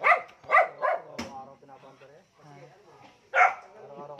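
A dog barks several times close by, a quick run of three sharp barks, then a pause, then one more bark, with people talking in between.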